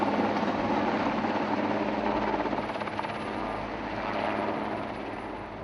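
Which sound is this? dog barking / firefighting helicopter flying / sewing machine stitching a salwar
firefighting helicopter flying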